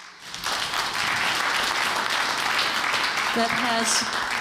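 Steady crowd applause fills the space, loud and sustained throughout, with a brief voice surfacing near the end.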